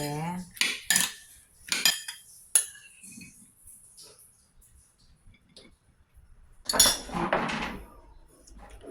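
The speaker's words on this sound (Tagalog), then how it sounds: "At mayonnaise. Haluin lang na mabuti." A utensil clinks and scrapes against a bowl as tofu sisig is stirred with mayonnaise and soy sauce, a few bright, close clatters in bursts separated by quiet pauses.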